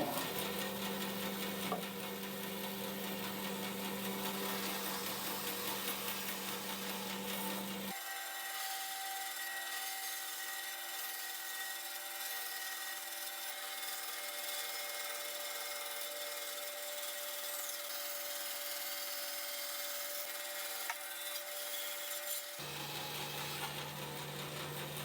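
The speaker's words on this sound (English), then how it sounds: "I can remove this on the bandsaw." A bandsaw rough-cuts a traced wooden piece along its line. A steady, even whir of blade and motor runs unbroken for the whole stretch, close and at a constant level, with no voices.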